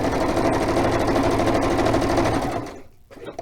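A sewing machine stitches across the top edge of fabric in a steady, rapid mechanical whir that runs loud and close for most of the stretch, then stops abruptly, leaving a couple of faint handling clicks.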